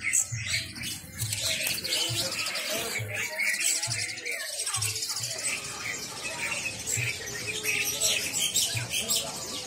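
Caged birds, including pleci, kenari and jalak putih, chirp and tweet busily in a bird shop kiosk, a dense layer of overlapping calls with low thumping and bustle beneath, steady throughout.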